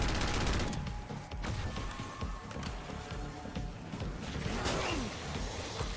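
Rapid gunfire from a hard-kicking weapon in Call of Duty: Black Ops, a loud dense burst at the start, then scattered shots and game effects running throughout.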